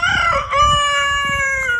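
A rooster crows close and loud in one long sustained call that tapers at the end, with faint clucking and rustling underneath.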